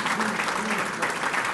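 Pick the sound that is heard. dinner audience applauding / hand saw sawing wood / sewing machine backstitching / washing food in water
dinner audience applauding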